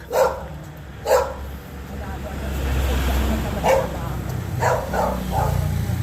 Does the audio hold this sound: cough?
no